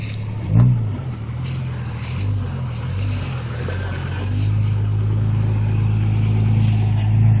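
A lifted Jeep ZJ with a 3-inch lift, crawling on slick rock at Shoe Creek, its engine droning steadily at close range, briefly swelling early and then building into a louder, sustained rev toward the end.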